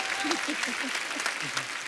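Studio audience at a comedy talk show clapping loudly in a dense burst of applause, with a voice briefly audible over it.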